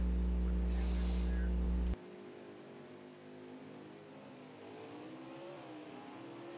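A race car in a racing video game accelerates out of pit road at an Iowa oval. A loud low engine drone cuts off abruptly, then quieter engine tones climb in pitch, with no talking.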